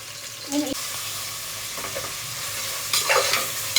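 Thick sliced onions (three) frying in oil with two bay leaves and three green chillies for chicken biryani: a steady close sizzle with a few scraping stirs near the start and again toward the end.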